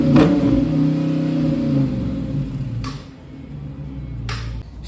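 A Dodge Challenger engine with its mufflers removed growls loud and close, with a rough idle that rises and dips in revs, heard alone.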